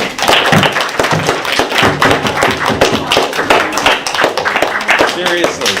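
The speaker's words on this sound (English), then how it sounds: "So you should give yourselves a big round of applause." A class applauding themselves after a talk, dense and loud clapping from a group with irregular taps and thumps throughout, sustained for several seconds.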